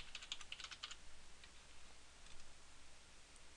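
Password being typed on a computer keyboard: a quick, faint run of light key clicks, denser at first and then sparser, with no talking.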